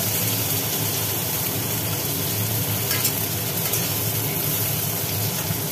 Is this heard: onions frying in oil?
yes